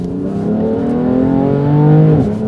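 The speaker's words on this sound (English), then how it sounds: "You can really hear the turbos coming through" A car fitted with Mosselman S55 hybrid turbos accelerates hard, its engine tone climbing steadily in a loud, close whirring drone that rises through the revs before a quick drop near the end.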